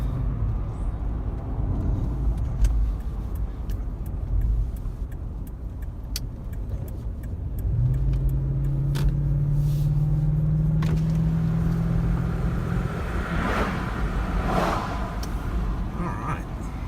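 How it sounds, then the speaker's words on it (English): A 2015 Lexus GX460 V8 accelerates hard on an old highway with the window down. The engine rumble builds and holds a rising drone for several seconds under road and wind noise. "I'm going to roll the window down so we can hear the engine when we gun it this time."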